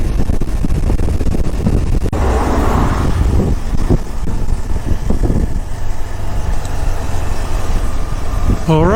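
A KTM motorcycle engine runs steadily at idle, a loud, continuous rumble that fills the whole stretch, with voices faintly under it at times.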